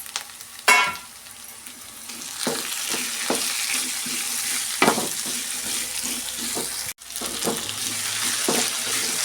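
Tomato, tamarind and coriander leaves sizzle while frying for an okra sambar, a steady hiss broken by scattered scrapes and stirring knocks, close and fairly loud with no talking.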